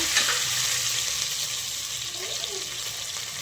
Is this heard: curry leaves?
yes